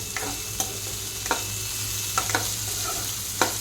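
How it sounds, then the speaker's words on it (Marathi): Paneer bhurji sizzling steadily in a hot pan, with a spoon stirring and scraping against the pan a handful of times, close and continuous. "आपण ह्याला हलवून घेऊया"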